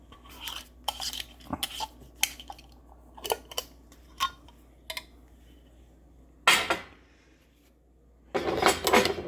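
A lid comes off a home-canning jar and a canning funnel is set in for a water bath. Sharp, separate clinks and taps of metal and glass sound close by, with a louder clatter near the end and no speech.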